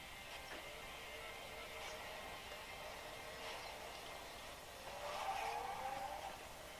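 Racing game on a Kindle Fire HDX 8.9 tablet plays engine drone and tire squeal at a steady level from the device speaker, with a louder skid-like swell near the end.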